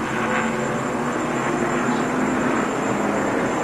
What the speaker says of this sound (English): that's a colossal blown engine